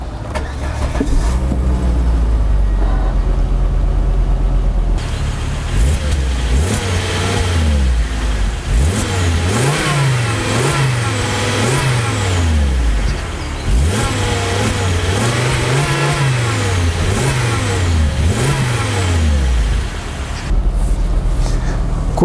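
A Volvo V70 engine cranks and catches, then idles with a steady low hum broken by several brief revs rising and falling, loud and close, with no talking.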